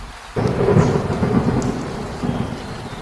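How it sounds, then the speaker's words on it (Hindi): A strong storm lashes a rural hut, with a heavy rain wash and rumbling thunder that bursts in suddenly and stays loud and close for the whole short stretch, with no voices. "देखो कितना तेज तूफान चल रहा है।"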